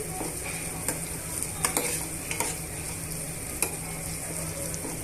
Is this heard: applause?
no